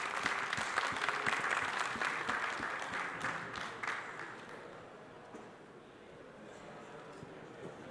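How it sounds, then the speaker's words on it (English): Panel audience at a conference on trusted AI applauds, a dense wash of clapping that is loudest at the start and thins out toward the end. "I think you deserve a round of applause."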